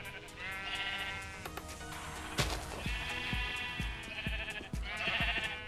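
Minecraft sheep bleat repeatedly in a fast sheep farm, their wavering cries overlapping with a run of sharp clicking game sounds and rail noises beneath them.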